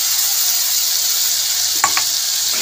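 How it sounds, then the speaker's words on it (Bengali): Wet spice mix of coriander, cumin, chilli and turmeric powders sizzles steadily in hot oil in a pan for a Bengali parshe fish curry, with a brief stirring clatter near the end. "মশলাটা দিয়ে কষিয়ে নেব"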